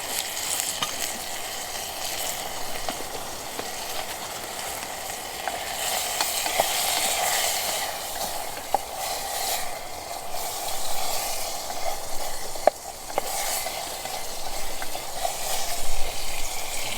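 Beef with pepper sizzling and frying in a pan at a winter wild camp, a steady hiss and crackle with occasional scrapes and knocks of stirring, close and continuous without speech.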